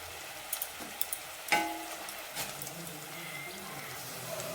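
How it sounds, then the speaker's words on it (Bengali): Spice masala with ginger paste sizzling and being stirred in a pan for chicken kachuri, a soft steady frying hiss with a few clinks and scraping sounds close by. "এটা দিয়েও ভালো করে মশলাটা কষে নেব।"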